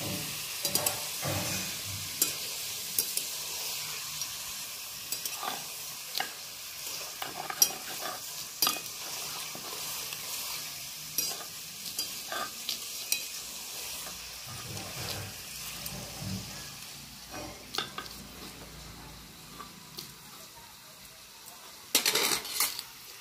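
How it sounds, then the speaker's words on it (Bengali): Garlic cloves are ground into a paste by hand. Irregular scraping and grinding strokes sound close and fairly quiet, with scattered knocks and clinks of utensils. A louder burst of scraping comes near the end. "এবার আমি এই রসুনগুলো বাটবো।"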